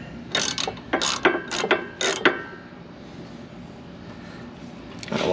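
A ratchet wrench clicks in several quick bursts while working on the rear brakes of a Fiat 124 Spider, close and crisp, then pauses before a final short run of clicks.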